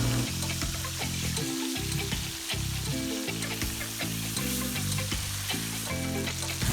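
Fish frying in very hot oil for Jamaican brown stewed fish, a loud, steady, close crackling sizzle that runs unbroken throughout with no voices.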